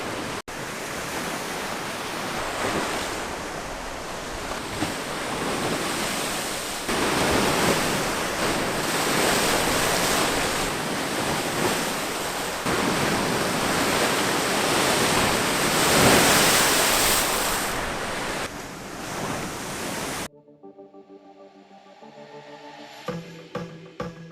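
Big waves breaking on a Lake Michigan shore at St. Joseph, Michigan, a loud continuous roar of surf with surging crashes and wind buffeting the microphone, then an abrupt cut to near silence at the end.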